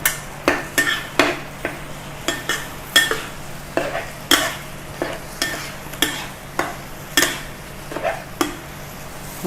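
Shallots stir-frying in a pan for Thai shrimp-paste fried rice: a steady run of sharp scraping spatula strokes against the pan over a continuous sizzle, close and fairly loud, with no talking.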